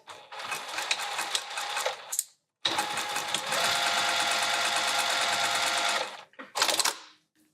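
Sewing machine stitching fabric for a roll-up wrap, running in two loud, steady bursts with a short pause between and a brief final burst, close and alone.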